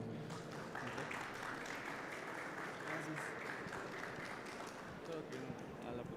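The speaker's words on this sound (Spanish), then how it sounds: "Un aplauso, por favor." Applause from an audience at a Medical Expo recognition presentation, a steady, fairly quiet patter of many hands continuing throughout with faint voices mixed in.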